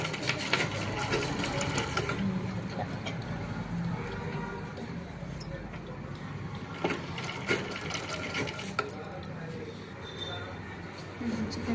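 A sewing machine stitches slowly around a curve in short bursts, its rapid mechanical chatter stopping and restarting as the fabric is adjusted, while a person talks quietly over it.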